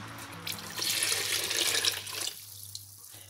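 Water pours into a cooking pot while kadhi is being made, a close, steady splashing stream that runs for a couple of seconds before stopping abruptly, followed by a few faint drips.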